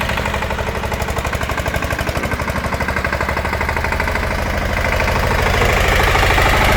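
A small AGRI GLOBE180 N1 tractor engine chugging steadily with a fast, even knocking rhythm, close and loud, growing slightly louder toward the end.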